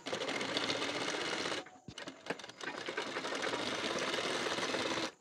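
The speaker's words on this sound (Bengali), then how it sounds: "এখন এখান থেকে বসিয়ে পুরোটাতে সেলাই দিয়ে নেব" A sewing machine stitches the neck binding strip onto a blouse, running in a steady loud whir that stops briefly, restarts with a few uneven stitches, then runs continuously again, close and with no talk.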